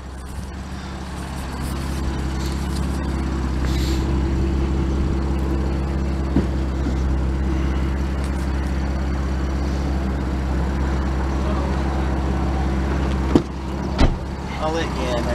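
A 2019 BMW M2 Competition with Dinan upgrades and a six-speed manual drives along with a steady, loud engine and road drone throughout, plus a couple of sharp knocks near the end.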